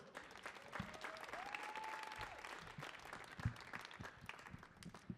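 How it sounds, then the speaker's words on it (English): Steady applause from a poetry event audience in Tshwane, a dense wash of clapping that holds for several seconds, with a faint tone gliding through early on. "Let's have a big round of applause for her."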